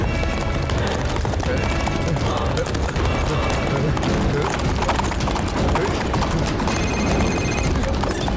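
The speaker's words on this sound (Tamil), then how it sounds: "நம்ம ஸ்பீட் இதுக்கு முன்னாடி இவ்வளவு தூரம் ஓடுனது இல்லைல்ல. ஸ்பீட் ஒரு காட்டு குதிரை" Galloping hooves of a wild horse in an animated Tamil series, fast dense clip-clopping pounding throughout, loud and close under a busy action mix.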